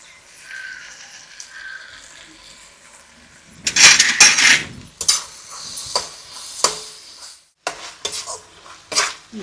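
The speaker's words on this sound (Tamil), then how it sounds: "அதோட மிளகு ஜீரகமும் கொஞ்சம் போட்டு வதக்கிடுவேன்." Pepper and cumin stirred with ginger and garlic in a pan at home, a spoon scraping and clinking against the metal in bursts with a soft sizzle underneath, close and fairly loud, no talking.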